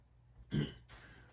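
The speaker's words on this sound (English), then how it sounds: "Just had a bad cough." A single short, harsh throat clearing with a small cough sounds close up against a quiet background, followed by a faint rustle.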